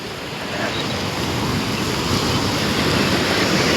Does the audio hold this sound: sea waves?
yes